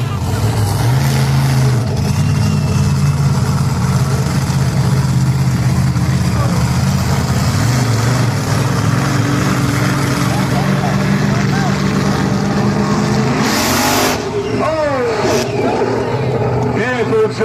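A monster truck engine roars and revs continuously at a freestyle event with ramps and jumps, loud and close throughout, with pitch rising and falling under a commentator's voice.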